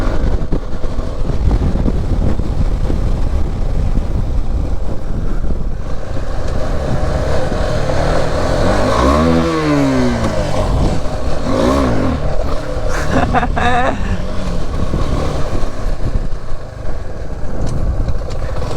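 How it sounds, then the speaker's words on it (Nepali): A 250cc motorcycle with a windshield rides at steady speed, its engine droning loudly with wind noise throughout, and a rising rev sweep around the middle as it accelerates, then settling back into cruising. "पावरफुल छ यार यो बाइक 250 हो"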